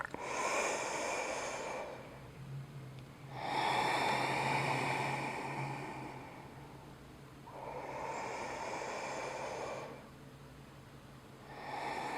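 Slow, deep breathing during a yoga mobility exercise: long airy inhales and exhales alternate in three or four steady passes, close to the microphone, with no talking.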